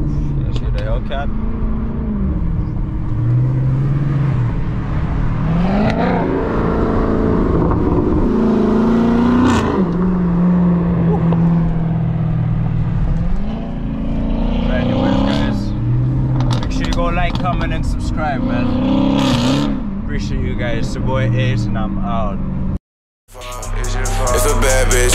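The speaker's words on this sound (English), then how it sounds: "let's hear the Hellcat." Dodge Hellcat car engine heard outdoors with a continuous throaty roar and repeated revving swells, accompanied by speech and music, before a brief cut near the end.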